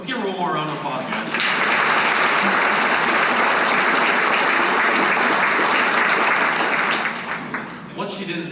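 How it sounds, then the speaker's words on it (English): Loud, sustained applause from a large audience, rising quickly and holding steady for several seconds before tapering off. "Let's get one more round of applause, guys."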